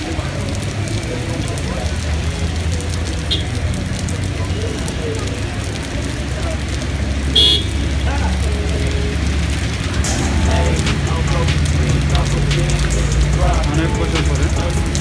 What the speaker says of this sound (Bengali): বৃষ্টি, এই একটা বৃষ্টি।